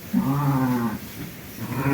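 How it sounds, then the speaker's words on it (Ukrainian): Sheep on a large farm in the Ternopil region, one close, loud drawn-out bleat followed by another bleat starting at the end. "Отака така ферма овець."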